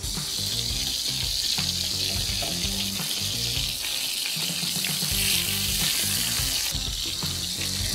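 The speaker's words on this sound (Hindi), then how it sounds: "और फ्राई होने दीजिए." Beef burger patties fry in a pan with a dense, continuous sizzle and hiss, loud and close, carrying on without pause over background music.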